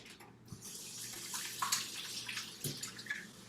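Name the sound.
water running from a tap while rinsing hands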